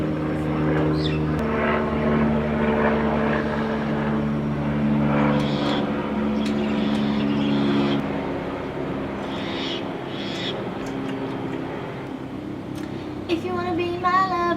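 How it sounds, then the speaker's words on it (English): A propeller airplane drones overhead in a steady, continuous hum that lingers for several seconds, with faint talk underneath and a brief outdoor rustle near the end. "let me wait till this fucking plane is over"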